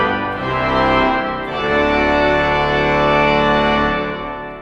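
Full tutti of the Royal Albert Hall organ played on the great keyboard, a massive, dense sustained chord swelling and holding at high volume before tapering slightly at the end, with no talking.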